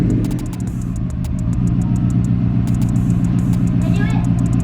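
A Subaru WRX fitted with a Nameless 4-inch axleback exhaust and ISC coils runs with a loud, steady, deep exhaust rumble that holds level from start to finish, with a few faint high ticks above it.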